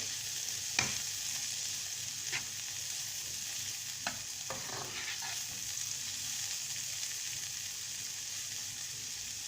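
Mushrooms fry in a hot pan for a quiche with an even, moderate sizzle, and a few scattered clicks and taps of a utensil stand out against it.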